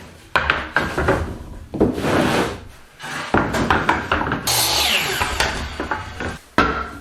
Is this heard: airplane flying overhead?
no